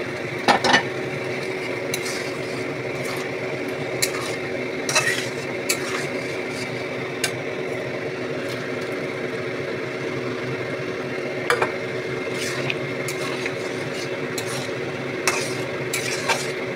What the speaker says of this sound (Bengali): এবার এই মশলাটার মধ্যে আমি ডালটা ছেড়ে দেবো।